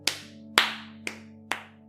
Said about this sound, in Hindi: ताली बजाते हैं भाई